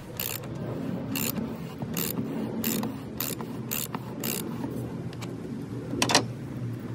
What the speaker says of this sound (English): go ahead and attach it to a socket wrench and begin to undo the air filter